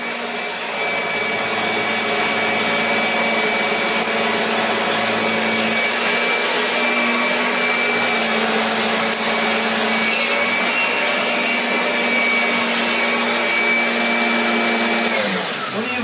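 A Kirby Avalir 2 vacuum cleaner runs continuously with a loud, steady motor whine and a droning hum, close by and unbroken for about fifteen seconds before it begins to wind down at the very end.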